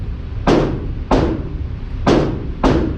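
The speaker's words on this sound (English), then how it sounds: "So, there are 5 rounds. And I'm going to shoot the middle square." Four sharp micro pistol gunshots from a compact carry handgun such as a S&W Shield Plus, Springfield Hellcat or Ruger, fired at a paper target, irregularly spaced, loud and close with quick decaying echo.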